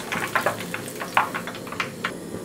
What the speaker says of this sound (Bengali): বাকি পাকোড়াগুলো আমি ভেজে নিচ্ছি